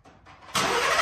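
Ford truck engine cranking briefly with a quiet starter whir, then catching at once into a loud, steady idle roar that holds to the end.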